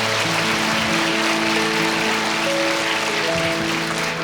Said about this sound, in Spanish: Dale fuerte este aplauso.